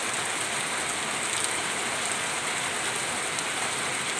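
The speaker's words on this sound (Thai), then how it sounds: "มีแต่สายฝนลงมาเนาะ" Steady rain pours down outdoors in a dense, even hiss that stays constant and loud throughout, with no voices over it.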